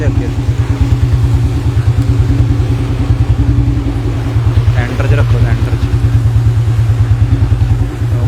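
Loud, steady chugging of a diesel tractor engine running close by, a rapid regular thumping throughout, with a voice calling out briefly over it.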